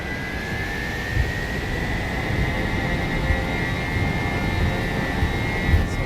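Airbus jet engines spool up for takeoff in a flight simulator, giving a steady loud roar with a rising whine held throughout, alone with no voices.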